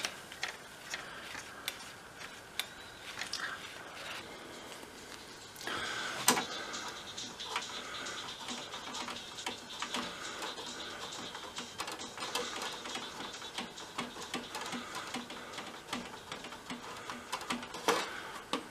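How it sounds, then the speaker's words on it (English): The head drum of a VHS or Betamax video recorder spins during cleaning, a faint continuous mechanical whir with light ticking and clicking throughout, close and steady. "Make sure while you're doing this that the drum is actually turning."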